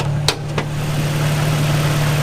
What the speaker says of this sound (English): Car sounds good, seems good.